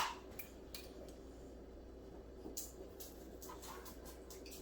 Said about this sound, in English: So I'm just cutting these into little slices.